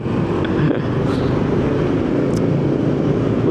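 Exhaust note of a big-bore Honda Wave motorcycle, a steady, loud, low rumbling drone that holds even throughout with no talking.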